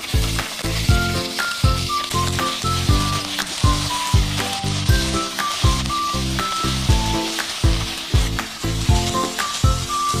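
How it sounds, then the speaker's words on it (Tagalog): Mushrooms and garlic sauté in a hot pan with a loud, steady sizzle and rhythmic spatula scrapes and stirring knocks repeating throughout, with no voices. "igisa lamang po natin saglit yung mushroom with garlic"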